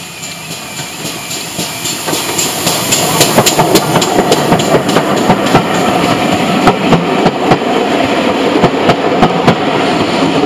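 A train runs on rails with a loud, continuous rumble and rapid rhythmic clicking of wheels over joints, heard close and steady throughout.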